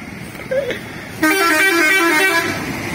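A Hino bus passing along a road gives a loud, sustained horn blast that starts abruptly and holds steady to the end. Softer engine and traffic noise come before it.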